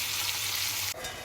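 Fish sizzles in a hot pan during home cooking, a close, steady crackling fry that shifts slightly near the end of the brief moment, with no talking.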